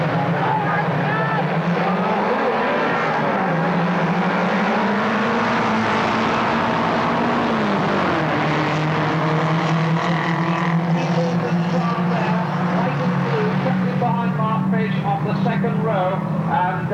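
Renault 5 saloon race cars in a 1984 Brands Hatch pursuit race drone loudly past in a pack, engines rising and falling as they climb over a crest toward a corner, with a commentator talking over them throughout.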